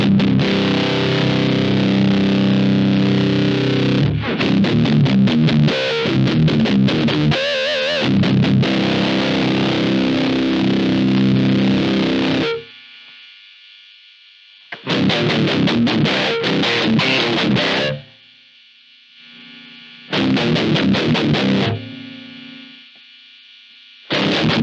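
Electric guitar played through a Demonfx Pedal To The Metal overdrive (Freedman OD clone), giving a fuzzy, distorted tone: long sustained chords and busy riffs, broken by a pause with only faint hum, then two more short bursts of playing.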